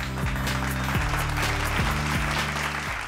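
A studio audience at a Punjabi children's singing competition claps loudly and steadily for the musicians, a dense continuous applause with music sustaining underneath.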